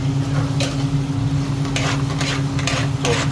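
King prawns are stirred into a butter chicken sauce in a hot pan, with a steady close sizzle and a few scraping stirring strokes of a utensil against the pan, no talk.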